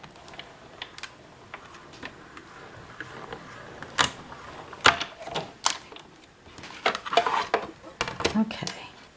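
Scissors snip through sheets of designer paper in a run of crisp, irregular cuts, close and moderately loud, growing busier toward the end over quiet room background.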